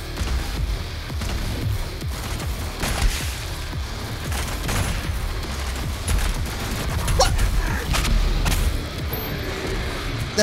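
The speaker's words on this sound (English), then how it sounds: "The headshots sound like Gears of War" Dense, continuous gunfire with booms and mechanical clatter in the game DOOM Eternal, including headshot hits, loud and sustained throughout with no speech.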